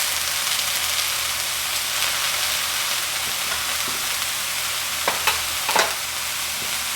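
Carrots and red peppers stir-frying in a pan for a chicken and mushroom stir fry, a steady soft sizzle with faint scraping stirs and a few sharper clicks near the end.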